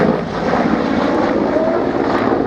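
An aircraft engine drones loudly and steadily overhead at the Biggin Hill Airshow, matching a helicopter flying display, with a constant broadband roar and no speech.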